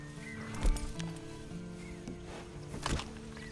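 Hooves thud and clop in a slow, uneven walk in the Red Dead Online video game, set over a low steady ambient hum with a couple of louder knocks.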